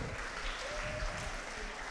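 Quiet applause from an audience at a children's fashion podium show honours a child's outfit, a soft, distant patter of clapping over low room rumble.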